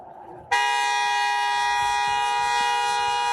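A car horn blares in one long unbroken honk that starts abruptly and holds loud and steady to the end, the driver sitting on it after an angry exchange; faint background noise sits underneath.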